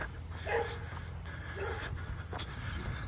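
A dog on a historic residential street in Harriman, Tennessee gives a few faint, distant yips and whimpers over steady outdoor background noise.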